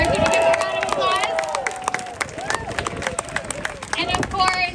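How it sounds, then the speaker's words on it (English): Crowd at a Historic Filipinotown community gathering applauding Attorney General Rob Bonta, with a steady, dense patter of claps and cheering under an amplified voice throughout. "Can you give him a round of applause?"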